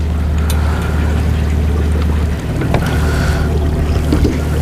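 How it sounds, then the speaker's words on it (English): A trolling motor pushes a fishing boat along a river: a steady low drone with a faint rhythmic pulse, close and continuous, under light wind noise and soft water sounds, with no voices. "I got to turn that trolling motor up just a touch more."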